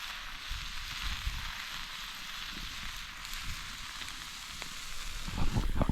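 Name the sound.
egg cracked into a pan, frying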